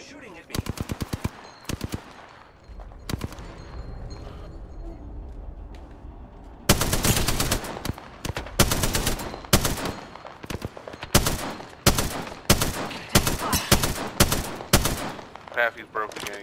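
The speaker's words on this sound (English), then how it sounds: "The enemies are shooting at me." Rapid automatic gunfire and bursts of shots in the video game Apex Legends, dense loud volleys near the start and a long stretch of heavy firing later, with a quieter gap between.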